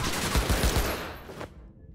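Rapid burst of assault rifle fire in Cyberpunk 2077, several quick close shots in a dense volley that cuts off abruptly, followed by silence.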